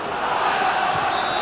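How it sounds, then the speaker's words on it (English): Everton supporters at a 2004/05 home football match against Southampton roar and cheer as one dense, loud crowd wash, sustained throughout without a clear break. "you can hear the Everton crowd rising to Gravesen"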